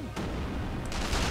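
Gunfire in the game Sniper Elite V2, sharp loud shots cracking over a dense low rumble, with a burst at the start and more shots near the end.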